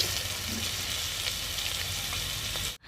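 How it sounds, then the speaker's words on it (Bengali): Pieces of meat fry in oil in a pan, a continuous close sizzle that holds steady for a few seconds before cutting out abruptly near the end. "মাংসগুলোকে হালকা করে ভেজে নিয়েছি।"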